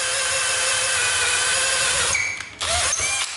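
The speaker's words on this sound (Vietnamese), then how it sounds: "Khoan cái tiếng khác này nha bạn." A Japanese-market National cordless battery drill runs steadily with a whirring motor, freshly fitted with a new battery, then stutters and changes pitch briefly near the end, close and loud.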